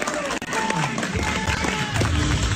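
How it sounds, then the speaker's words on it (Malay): A cinema audience at the start of the Minecraft movie claps and cheers in a dense, continuous wash of applause and crowd noise, with a voice talking over it. "movie baru nak mula, kau tengok dah ada orang tepuk tangan"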